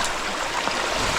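A village stream swollen after rain rushes past nearby, a loud, dense and unbroken roar of water during a fishing trip, with no talking.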